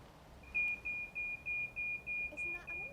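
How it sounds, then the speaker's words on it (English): A solar-powered alarm circuit's bleeper, wired to sound when two wires touch during a dry run, gives a steady train of about eight evenly spaced, shrill electronic beeps over quiet outdoor background. "the bleeper will only bleep if those 2 wires make a contact"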